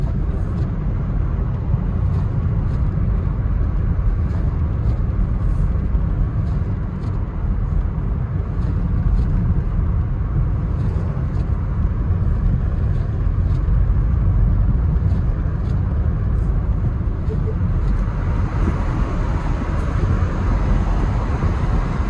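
A car coasts downhill on a heavily snow-covered road during a storm, its tyres and engine giving a steady, loud low rumble that holds evenly throughout with no talk.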